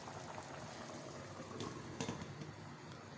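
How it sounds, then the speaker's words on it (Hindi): Mixed lentils boil in water in a cooking pot, a quiet continuous bubbling and simmering with soft popping, steady and close, with no voices. "ये देखिए दाल में उबाल आ चुका है"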